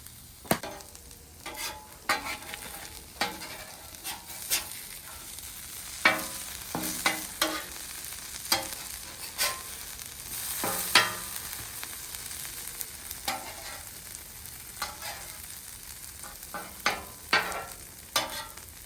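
Seasoned potatoes for hash browns, with salt, pepper, garlic and butter, fry on a Blackstone griddle in a steady soft sizzle. Sharp scrapes and taps of a spatula break through at irregular moments, and no voices are heard.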